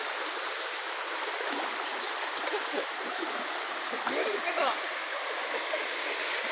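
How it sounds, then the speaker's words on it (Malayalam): A flowing backwater stream in Karnataka, heard as a continuous broad rushing wash of water at an even level, with a faint voice speaking partway through. "കായലങ്ങ് ഒഴുകി നീണ്ടു നിവർന്ന് കിടക്കുകയാണ് കേട്ടാ."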